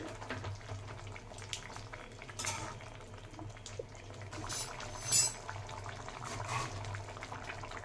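Fish curry (kheyra fish tel jhal) simmering in a pot with very little water over a medium-low flame, a faint steady bubbling hiss with occasional light clinks of utensils, quiet and close.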